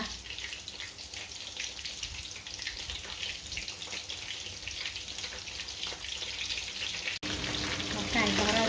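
Stuffed chicken wings filled with French fries deep-fry in hot oil, a continuous close bubbling sizzle that holds steady throughout and grows slightly louder near the end.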